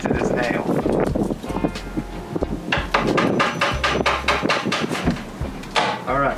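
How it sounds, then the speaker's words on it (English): A 1-inch chisel struck with a hammer to pry apart pieces of wood, a run of sharp repeated knocks close by, quickening into a rapid burst, with someone talking and breezy wind noise around them. "I'm going to take an inch, a 1-inch chisel. I'm going to try to separate the wood from each other."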